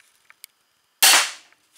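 Single sharp Excalibur crossbow shot fired during a speed test, a loud crack with a quick decaying snap after a few faint ticks, close and otherwise quiet.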